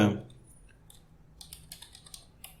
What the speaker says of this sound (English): we'll continue typing